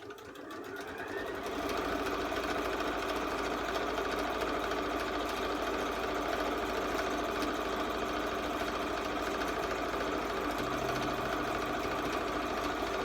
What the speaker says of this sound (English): just going to sew along the edge there so it holds those folds in place